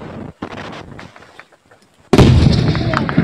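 A short burst of automatic gunfire erupts in a combat zone in eastern Ukraine, a sudden loud rattling blast that follows quieter rustling and faint voices and stays harsh and close until the end.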